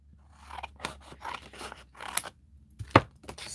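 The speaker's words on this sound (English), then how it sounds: "Let me get my scissors." Scissors snipping while unboxing a craft kit with paper frills: a few quiet, sharp, close cuts spread out over several seconds with near silence between them.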